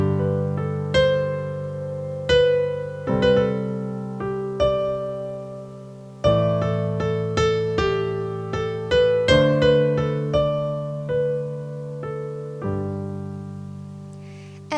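A piano chord held for four beats at a time while the right hand improvises a melody above it. Clear struck notes ring and decay over the sustained chords at a relaxed pace, played alone with no speech.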